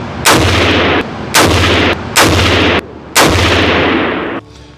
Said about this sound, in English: I shot my first group of 5.